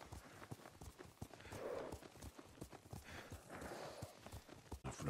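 Hooves clop steadily as a horse is ridden in Ghost of Tsushima, a quick, even rhythm of close, crisp hoofbeats over a soft outdoor background, with no talk.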